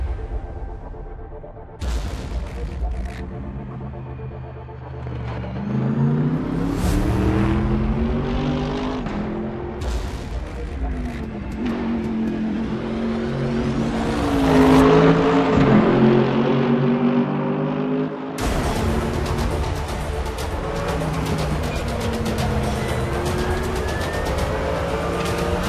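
Mercedes-AMG GT3 race car in the RaceRoom racing game, its engine revving up and down through gear changes with a loud, sustained whine, and a brief cut around the middle before it roars on.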